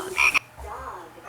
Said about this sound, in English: it has bird sounds, frog sounds, and dog sounds